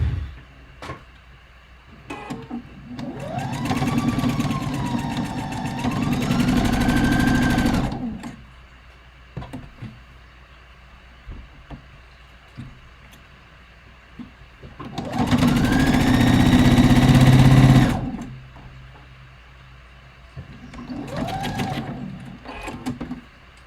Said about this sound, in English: So in that middle spot where it's not sewn together, you're going to top stitch.